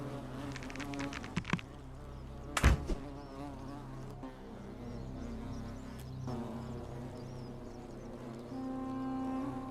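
A beehive in the video game The Forgotten City gives off a soft, steady insect buzz, with a few sharp impact sounds early on and no talk.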